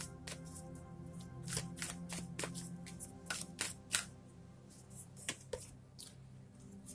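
Tarot cards being handled and drawn from a deck, a run of crisp close snapping and flicking card sounds over a steady low room hum, with no talking.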